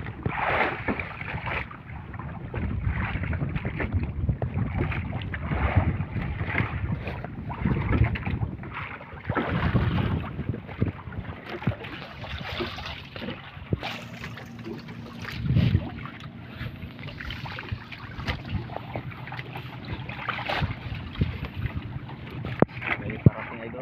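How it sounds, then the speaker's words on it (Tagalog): Small fishing boat, likely a motorized banca, drawing nearer across open water after a storm; a steady engine drone with water and wind noise runs throughout, with occasional voices faintly in the background. "May parating pa rin yung bangka."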